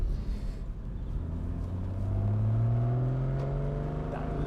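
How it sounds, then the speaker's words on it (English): A Porsche 981 Boxster GTS pulling away from a near standstill in first gear, its engine giving a low burble that rises in pitch as revs climb around 2,500 RPM, heard close and without talk. "That little burble as you pull away."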